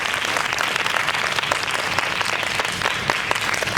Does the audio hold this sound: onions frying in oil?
no